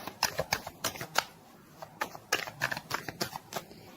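Tarot cards are shuffled and flipped close by in a quick run of soft riffling slaps and flicks, with no talking.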